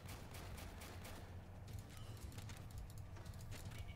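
Steady crackle of gunfire fills the Warpips strategy game battle, dense overlapping shots running continuously at even loudness with no voice over it.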